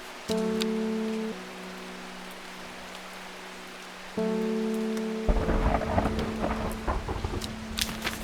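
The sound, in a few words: thunderstorm and rain in the video game Strange Horticulture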